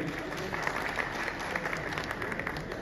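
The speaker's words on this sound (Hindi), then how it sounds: "बाबर आजम के लिए पहले ताली होनी चाहिए।" An audience applauds the cricketer Babar Azam at a Peshawar Zalmi team event, giving dense, continuous clapping at a moderate level that keeps going for the whole stretch.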